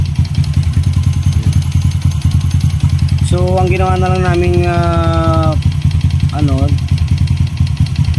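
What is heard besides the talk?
motorcycle engine knocking, damaged piston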